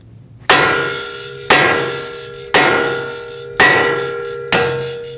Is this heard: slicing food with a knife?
no